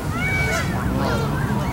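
A goose honks defensively while protecting its goslings, giving a rapid run of harsh, nasal calls close by and fairly loud.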